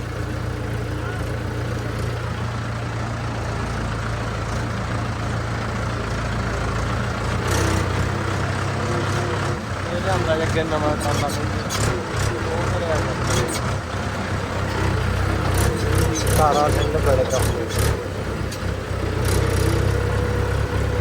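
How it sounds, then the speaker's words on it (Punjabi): A new Mahindra tractor runs in a village yard, its engine a low steady idling hum throughout, mostly beneath close conversation in Punjabi with some clattering. "ਮਹਿੰਦਰਾ ਟਰੈਕਟਰ ਆ ਜੰਗੇ ਵਾਲੇ ਇਹਦਾ ਨਵੇਂ ਦਾ ਉਦਘਾਟਨ ਕਰਿਆ"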